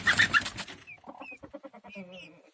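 Chickens and a rooster in a coop with newly introduced chicks give a burst of loud flapping scuffle, then a run of short clucks and squawks close by.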